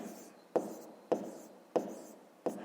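Quiet, close scratching of a pen on paper while working a fifth-grade math problem, four short strokes each starting with a crisp tap and fading, with no voices.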